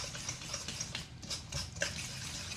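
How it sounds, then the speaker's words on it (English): Tap water runs while hands are washed at a kitchen sink during cooking, an irregular splashing stream broken by brief clinks and gaps, fairly close and moderately quiet. "Clean off my hands."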